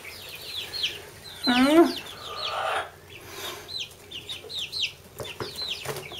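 Young chicks and hens clucking and peeping in a brooder on moving day before transfer to a barn coop, a louder burst of calls rising among steady chirps, with a brief spoken word.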